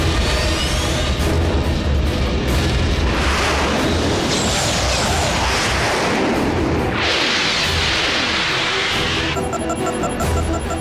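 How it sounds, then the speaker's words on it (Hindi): Missile attack explosions in an animated Transformers cartoon fight, a loud continuous barrage of booms and blasts with whooshing streaks, dense and chaotic for the whole stretch, no speech. "मिसाइल से हमला?"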